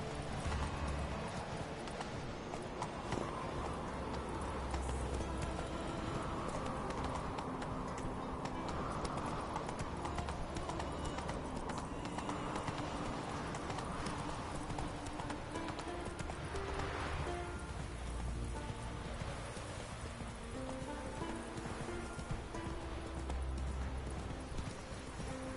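Roach, the horse in the video game The Witcher 3, gallops with a steady, continuous drumming of hooves over several seconds, with faint ambient sounds behind it.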